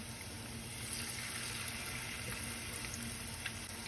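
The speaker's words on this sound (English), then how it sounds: "So much messy deep frying." Steady, dense crackling sizzle of food deep frying in hot oil, continuous and close, with no talking.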